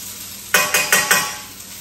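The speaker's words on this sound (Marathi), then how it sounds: "आता मी याच्यात टाकणार आहे कांदा उभा चिरलेला" Vertically sliced onion hits a hot pan for Malvani chicken with a sudden loud sizzle, followed by three more bursts of crackling as pieces land, then settling into a quieter hiss.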